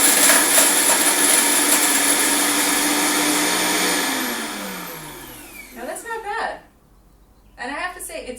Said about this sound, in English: Flip it on for the Vitamix.